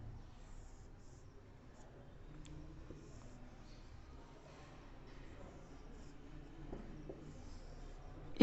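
A pen scratches and taps faintly while a circuit diagram is drawn, soft intermittent strokes under quiet room noise, with a sharp click at the very end.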